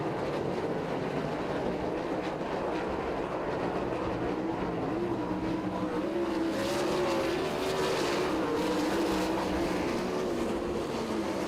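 410 sprint cars racing at Lincoln Speedway, a continuous roaring engine drone with rising whine as the pack passes, steady and fairly distant, with no voices heard.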